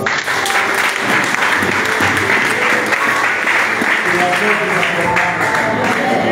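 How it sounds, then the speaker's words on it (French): A church congregation claps at a charity event, dense sustained applause filling the room at close range, with voices mixed into the clapping throughout. "Acclame Jésus-Christ pour ça."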